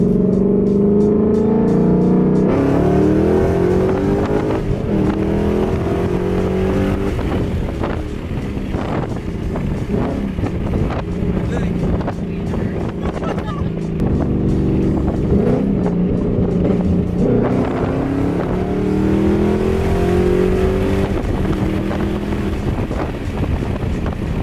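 Stock Coyote V8 Ford Mustang accelerating hard through the gears, heard from inside the car with engine pitch climbing and dropping at each shift, heavy wind rush throughout.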